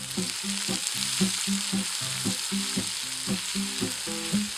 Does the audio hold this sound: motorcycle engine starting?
no